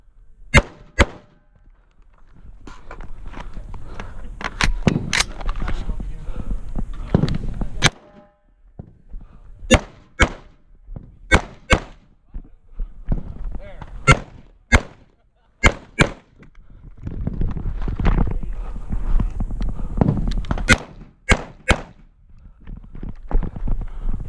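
Sharp 5.56 rifle shots fired at clay targets during a shooting match, heard as a series of loud cracks in quick pairs and clusters, with gaps between bursts and scattered talk and movement noise in the background.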